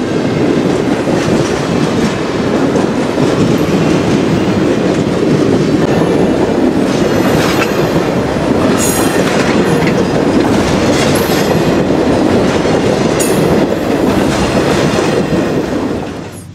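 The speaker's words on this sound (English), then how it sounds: "This is PO53, the southbound auto train, running late on an early December morning." Amtrak's southbound Auto Train rolls past on a CSX line near Folkston on an early December morning, a loud, steady roar of wheels and cars with clickety-clack and faint squeals, passing continuously for the whole stretch.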